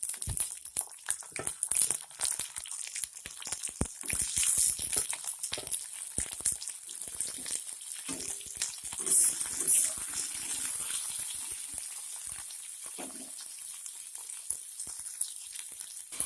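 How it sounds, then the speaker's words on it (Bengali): Potatoes being stirred in a hot pan as cut drumstick pieces go in for a vegetarian drumstick curry, giving a steady sizzle with scraping and clattering bursts, close and continuous. "এবার আলুগুলো একটু নেড়ে চেড়ে নিয়ে দিয়ে দেব কেটে রাখা সজনের ডাঁটাগুলো।"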